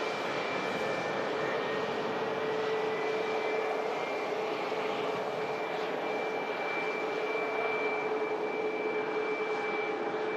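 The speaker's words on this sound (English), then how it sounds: "Sounds like it's starting another engine as well." A jet airliner on the ground at Manchester Airport spools up another engine. A loud, steady roar with a sustained high whine continues unbroken throughout, with no voices.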